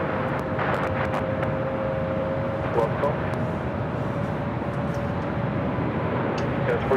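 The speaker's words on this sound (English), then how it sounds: "United Airlines Flight 802 coming in from Hong Kong at a 787-9 Dreamliner is the next arrival on 24 right." A United Airlines 787-9 Dreamliner from Hong Kong arrives on runway 24 right at Los Angeles airport, a steady broad jet roar with a faint whining tone held throughout, while voices talk over it.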